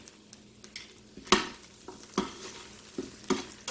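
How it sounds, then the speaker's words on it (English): Butter melting in a hot pan while cooking a pot roast, a soft steady sizzle broken by several sharp clacks of a utensil against the pan, close and otherwise quiet. "Throwing some butter in."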